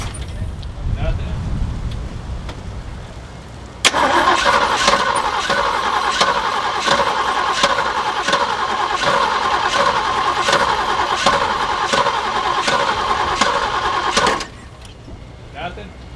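An old Jeep J10 pickup that has sat unused for years cranks over steadily and loudly with a rhythmic starter churn for about ten seconds, failing to catch, with background talk before and after.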